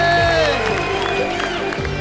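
A studio audience at a Colors TV comedy roast show claps and cheers in a loud, continuous burst with whoops mixed in.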